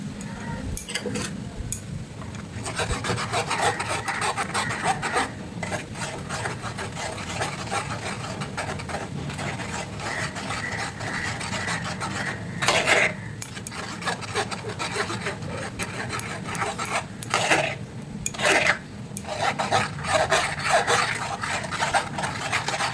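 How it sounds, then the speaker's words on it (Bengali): Blended tomato puree, mixed with beet pieces, is stirred and pressed through a sieve into another bowl. A steady, scratchy rubbing and scraping runs throughout, with a few sharper scrapes near the middle and toward the end. "এবার আমি অন্য পাত্রে ছেঁকে নেব টমেটোটা।"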